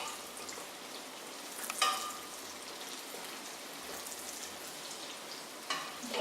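Onions frying in hot oil and salted butter for pumpkin soup, a soft steady sizzle and crackle at low volume with a couple of brief louder spits, no talking.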